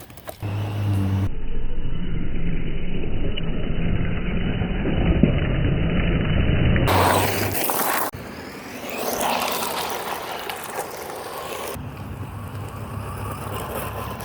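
A DHK Optimus XL RC buggy drives outdoors, its electric motor whining and revving in surges as it accelerates and passes, loud up close then fading and returning across several cuts.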